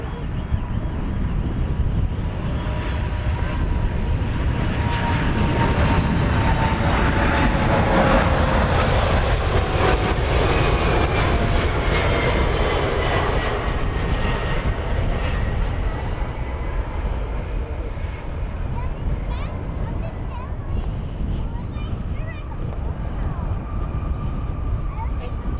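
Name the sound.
Atlas Air Boeing 747 cargo jet at DFW Airport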